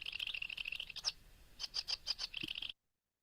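A sedge warbler sings in a field recording, mimicking other birds, with a fast, scratchy trill of high chattering notes followed by a run of separate chirps, faint and distant, ending abruptly.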